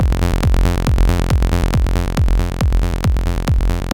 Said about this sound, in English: this classic trance technique of jumping up an octave in between each 16th